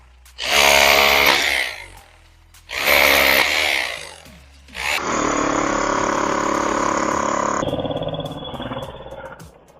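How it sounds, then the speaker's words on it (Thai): A Pumpkin H2-26 DFR rotary hammer chisels natural stone in loud, close bursts: two short hammering runs, then a longer sustained one. The rapid impacts rattle harshly, with no voices. "มาดูงานสกัดหินกันบ้างนะครับ อันนี้เป็นหินธรรมชาต"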